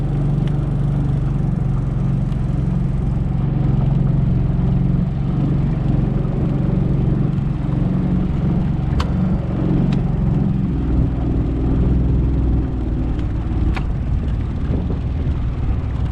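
Outboard engine on a 1971 Boston Whaler Sport out on the water, a steady low drone that swells slightly as more throttle is given, continuous and fairly close with a few faint clicks, no talking.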